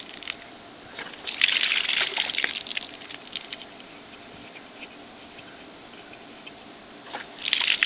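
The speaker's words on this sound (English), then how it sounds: "I got water for my front yard." Water runs from a newly installed outdoor hose bib, spattering and trickling in bursts that swell, fade to a faint patter, then pick up again near the end.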